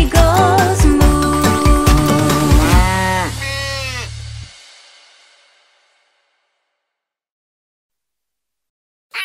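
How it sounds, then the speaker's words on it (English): A cartoon cow moos within a children's nursery song, the call ringing over bright instrumental music before everything cuts out and fades to near silence. "She is so funny when she goes moo"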